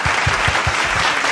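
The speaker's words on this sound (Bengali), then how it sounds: "সবাই হাততালি দাও।" Steady applause from a studio audience at a televised Bengali dance reality show, dense and continuous throughout, with a faint rhythmic low thumping of music beneath.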